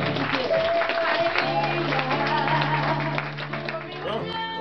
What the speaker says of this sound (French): Je voudrais qu'on applaudisse